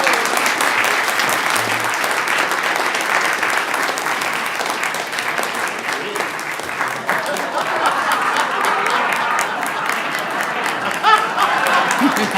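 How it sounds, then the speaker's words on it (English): Audience applause at a gathering, sustained and fairly loud clapping from many hands that continues steadily for over ten seconds without letting up. "big round of applause"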